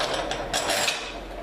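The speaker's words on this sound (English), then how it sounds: "Something to look for on a chop saw is the quick release screw." A quick release screw on a metal-cutting chop saw is worked by hand, giving a short run of close, rough mechanical ratcheting and grinding scrapes over about a second and a half.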